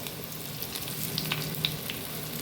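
Mustard seeds and curry leaves fry in hot oil for a South Indian sambar tempering, giving a steady close crackling sizzle with a few sharp pops rising above it and no voices.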